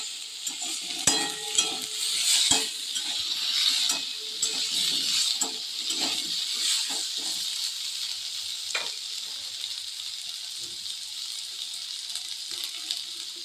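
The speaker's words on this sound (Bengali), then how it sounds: "এবার কড়ার মধ্যে পেঁয়াজ এবং আলু দিয়ে ভেজে নেবে" Onion and potato sizzle in hot oil in a wok, a steady bright crackle broken by repeated scraping stirs and clinks of the spatula, with no voices.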